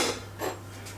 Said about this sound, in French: Qu'est-ce qu'il y en a comme vaisselle?